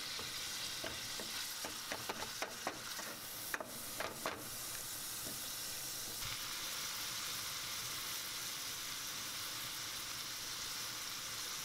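Minced meat fries in a pot under a constant hiss, with a quick series of stirring scrapes and clicks early on before the sizzle settles into a steady, even crackle.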